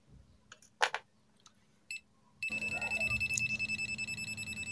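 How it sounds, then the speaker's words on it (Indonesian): An ANENG ST180 clamp meter detecting live current sends out a rapid, steady train of loud pulsing beeps that starts suddenly after a few quiet clicks and handling noises. "Sinyal tang ampere ini berbunyi seperti ini ketika aliran listrik menyala."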